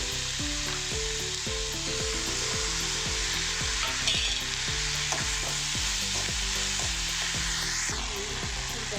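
Onion and tomato frying together in a pan, a loud continuous sizzle with rhythmic stirring strokes repeating about every half second, close and alone without talk.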